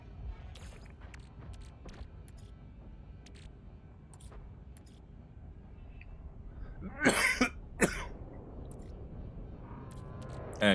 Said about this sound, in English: I will try to mute if I sense a bigger coughing fit coming